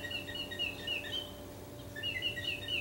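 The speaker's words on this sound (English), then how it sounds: "The bird is saying lots of things." A small bird chirps in short bright bursts, two clusters of quick tweets heard faint and somewhat distant over a low steady background hum.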